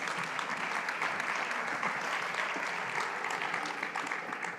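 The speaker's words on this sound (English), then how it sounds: "Please give her a warm applause" A conference hall audience at a UN tourism general assembly applauds steadily, a dense, even wash of many hands clapping at moderate distance throughout, with no speech over it.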